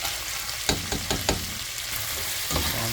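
Pork ribs sauté in a pan with a dense, steady sizzle, broken by several sharp spatula knocks and scrapes at irregular intervals.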